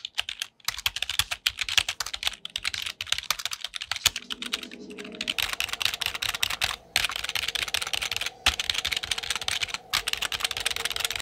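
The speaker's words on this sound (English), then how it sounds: "the Eclipse 2 is built with rubber dome switches, which, honestly, I actually quite like typing on." Steady, rapid typing on a soft-sounding rubber dome keyboard, close up, with brief pauses between bursts of keystrokes.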